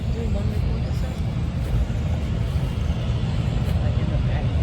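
Steady, dense rumble of road traffic passing near an abandoned site or cemetery in South Georgia, an even low drone with no breaks, heard from a middle distance.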